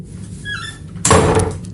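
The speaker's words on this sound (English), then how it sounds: "The sound of a door slamming shut." A door slams shut with one sudden, loud bang, preceded by a brief faint creak and followed by a short ringing decay in a quiet indoor space.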